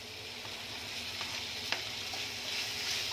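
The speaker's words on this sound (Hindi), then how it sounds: "पनीर को एक मिनट के लिए ऐसे भून लेंगे" Paneer cubes sautéing in a pan for paneer rolls, a quiet, even sizzle close by with a couple of faint clicks from the spoon and no talk.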